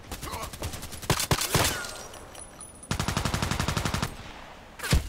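Rapid bursts of gunfire from a sniper-focused online shooter game, several sharp volleys with a long rattling automatic run in the middle and a final close shot, loud and near with no talking.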